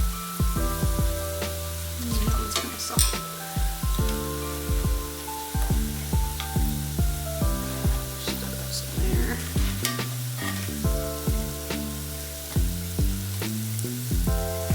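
Tortilla chips fry in hot oil for chilaquiles, giving a continuous sizzle with repeated stirring clatters, set against rhythmic background music.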